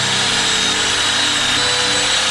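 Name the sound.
sawing a tree branch into wooden slices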